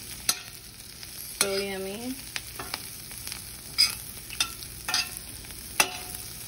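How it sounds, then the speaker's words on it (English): Steak sizzles in a pan while utensils stir and scrape it, with sharp clinks and knocks scattered over a continuous frying hiss, close up; a voice briefly speaks. "utensils to move all of this around so you don't scrape your pan"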